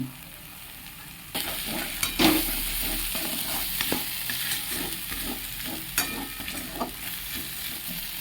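Asafoetida dropped into hot oil in a pan for a brinjal and lentil-dumpling curry, giving a sudden loud sizzle that keeps up a steady bright hiss with occasional stirring clicks, close by and with no voices.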